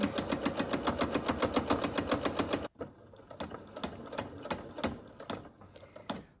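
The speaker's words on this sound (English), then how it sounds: "Start sewing and then back tack. And then keep going." A sewing machine stitches a blanket seam at a half-inch allowance, running in a fast even rhythm of needle strokes, pausing abruptly, then resuming in shorter, more uneven bursts for a back tack before continuing. Close and clear, with no talk.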